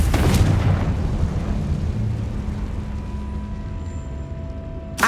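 Confringo spell blast in Hogwarts Legacy: a sharp loud explosion at the start, then a long rumbling, slowly fading roar with another short burst at the very end.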